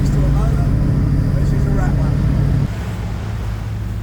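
A ferry's engine drones loud and steady on an hour-long sea crossing, a constant low vibrating rumble with water noise, shifting slightly partway through while someone narrates over it.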